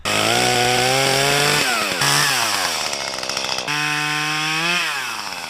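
A chainsaw runs loud and close, cutting brush, its engine revving up and dropping as it bogs into material, then revving high again.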